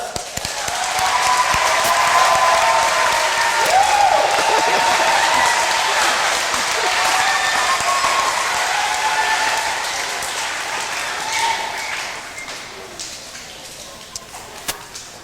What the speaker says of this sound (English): again, a round of applause for your school resource officer, Constable Chris.